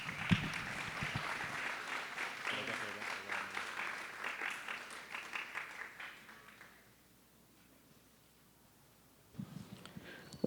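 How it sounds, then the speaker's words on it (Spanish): An audience at a philosophy symposium closing in Medellín claps loudly and continuously, then the applause thins and fades to near silence before a few sounds return at the end. "Fuerte aplauso, por favor."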